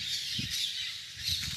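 Birds squawking and calling from a tree in a large city, a steady noisy chorus of sharp cries with a few louder bursts, heard alone without talk.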